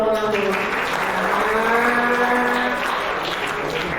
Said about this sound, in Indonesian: Tepuk tangan dulu dong orang Solo